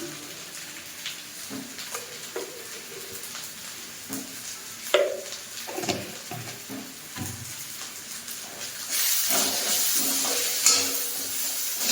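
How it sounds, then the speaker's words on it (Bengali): Water is poured into a pan of frying spice paste with salt and turmeric, turning a crackling sizzle with scattered stirring clinks into a louder, hissing burst of steam toward the end. "এখন আমি জল দিচ্ছি, একটু মশলাটাকে কষিয়ে নেব"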